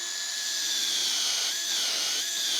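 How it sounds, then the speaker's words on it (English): A power drill bores a 5 mm hole through a workpiece held in a shelf pin jig, a steady high whine running continuously at close range with no talking. "we can start drilling"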